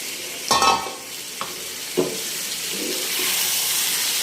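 Bele fish rubbed with turmeric and salt slides into hot spiced oil, giving a sharp burst of sizzling followed by a few soft scrapes and a steady, loud hiss of frying.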